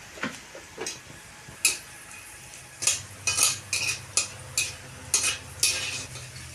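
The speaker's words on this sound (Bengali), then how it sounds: "কাজুটা ভাজা হয়ে গেছে, আমি তুলে দিচ্ছি" Cashews frying in oil in a pan, with a soft sizzle under a series of sharp, regular metallic clinks and scrapes from a stirring spoon, close up and without speech.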